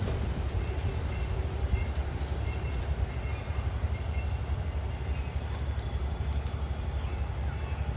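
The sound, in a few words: Thai railway train GEA 4530 locomotive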